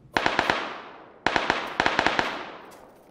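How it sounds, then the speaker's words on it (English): Two rapid bursts of gunfire in a multiplayer squad shooter, each a quick string of sharp cracks with trailing echo, loud and close with a short gap between volleys, no talking. "Oh shit, I'm getting shot at."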